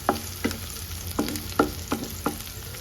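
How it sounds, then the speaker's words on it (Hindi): Onion and green chilli frying with fenugreek seeds in a pan, a steady sizzle broken by about seven regular scraping stirs of a spatula, close and moderately loud. "फिर उसके बाद मैंने थोड़ा प्याज और हरी मिर्च डाला। उनको अच्छे से भून के"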